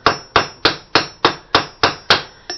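A ball peen hammer pounds a rivet on a steel Gothic breastplate, eight sharp metallic strikes in a steady rhythm, loud and close with no talk.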